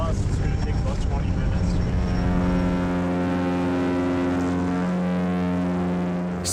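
A small Island Airways propeller plane in flight to Beaver Island, Michigan, drones steadily and loudly throughout, its engine tone shifting partway through while the cabin noise stays constant.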